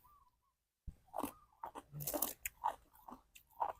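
Someone eating snails outdoors in the forest, with crisp close-up crunching and biting in irregular bursts after a short silence, loud against a quiet background.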